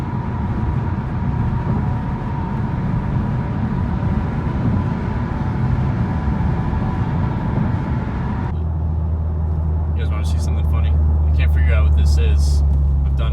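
A car pulls up for a pickup on a hot Florida day: a steady rumble of engine and road noise that shifts partway through into a deeper, even low hum.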